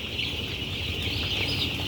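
Poultry farm chickens clucking together in a shed, a steady dense chorus of overlapping hen calls filling the space at moderate level with no talk.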